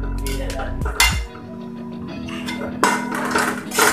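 A spoon stirs samosa potato masala with roasted peanuts in a metal pan, giving repeated clinks and scrapes against the pan in bursts, fairly close and clear, with no talking.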